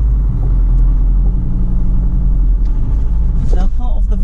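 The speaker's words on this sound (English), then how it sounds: "now I need to be getting the engine started up" Diesel engine of a 2013 Ford Transit jumbo panel van idling steadily after start-up, a continuous low rumble with a brief voice near the end.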